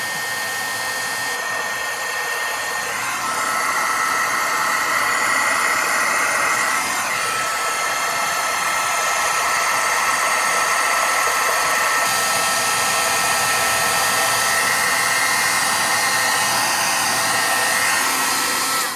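Steady, loud whooshing blow of a heat tool warming clear embossing powder on a stamped card, continuous and alone without speech.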